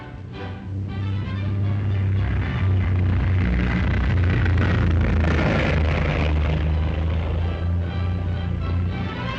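A de Havilland Heron airliner flies past at an air show, a loud propeller engine drone that swells and then eases, heard alone without talk.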